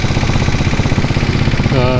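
A diesel Royal Enfield Bullet motorcycle engine runs close by, a loud, steady, rough low thump filling the whole moment, with a voice briefly heard over it.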